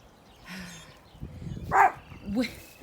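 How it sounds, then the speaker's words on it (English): A dog gives a few short, scattered barks and whimpers at moderate distance, with quiet background between them. "He's just going to bark endlessly now."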